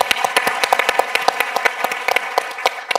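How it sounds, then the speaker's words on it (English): A smaller audience at a heritage talk gives a round of applause, distinct individual claps audible in an uneven, sparse rhythm that stays fairly close and continues for a few seconds. "Yes, a round of applause for"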